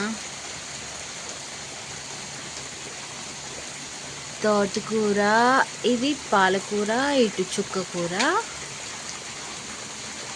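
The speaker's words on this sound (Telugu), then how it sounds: "వర్షం ఇంకా ఎక్కువ అయిపోయింది" Heavy rain falls on a home vegetable garden planted with greens, brinjal and mint, a steady close hiss throughout, while a person speaks over it partway through.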